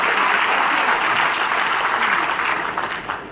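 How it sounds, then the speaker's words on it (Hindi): A crowd at a party workers' meeting in Rewa claps loudly and continuously, a thick sustained wall of applause that tapers slightly near the end. "एक बार जोरदार ताली मम्मी के लिए भी बजनी चाहिए।"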